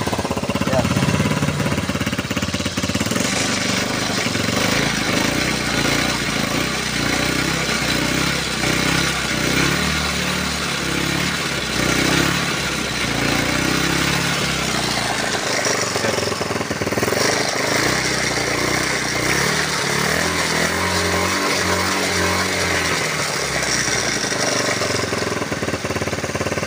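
A carbureted Honda Beat scooter engine runs continuously after a full-wave electrical conversion, a steady rattly idle with a loud buzzing drone held close throughout, no talk.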